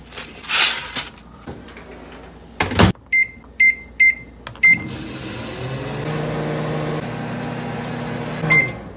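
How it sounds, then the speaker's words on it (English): Dog popcorn goes into a microwave oven: a door clunk and shut, a quick run of keypad beeps and a start tone, then the oven's steady hum and turntable drone runs close and continuous before a final beep. "it says to heat it up in the microwave for 55 seconds"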